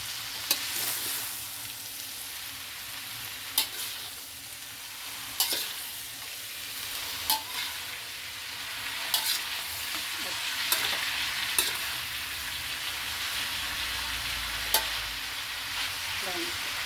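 Vegetables for pancit bihon stir-fried in a pan, a continuous soft sizzle broken by regular sharp taps and scrapes of the spatula, moderately quiet and close.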